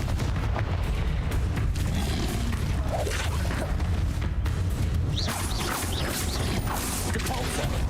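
Confringo fire spells exploding in the video game Hogwarts Legacy, a dense, continuous barrage of booms and crashes layered over loud game noise for the whole stretch.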